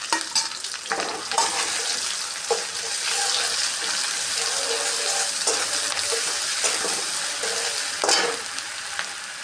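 Garlic paste fries in hot oil with chicken, cooked village style: a steady, bright sizzle runs throughout, broken by occasional stirring scrapes and clinks close by.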